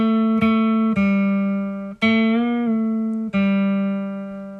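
A guitar plays the intro riff of a song: loud, clean plucked notes that ring out, with one note bent up and down, played alone with no talk.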